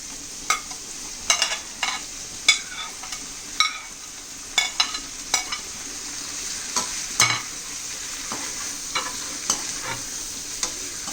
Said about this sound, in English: Now I am adding the tomatoes cut into small pieces.